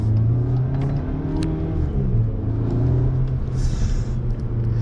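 A 2022 Cupra Formentor VZ engine rumbles loudly up close and revs, its deep growl rising and falling with a few faint exhaust crackles.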